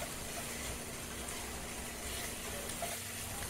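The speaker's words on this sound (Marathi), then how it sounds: "चवीनुसार मीठ टाकायचं आणि परतून घ्यायचं, 1 ते 2 मिनिटं मस्त परतवायचं।" Red chilli thecha with salt is sautéed in a pan, giving a steady, soft frying hiss that runs throughout with no clear stirring strokes.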